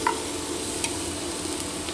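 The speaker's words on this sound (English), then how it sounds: "So we're only sweating these, we don't really want colour, we're just sweating them" Shallots and garlic sweat gently in melted butter in a pan, giving a soft, steady sizzle with a few light stirring scrapes near the start and end, close and unbroken by talk.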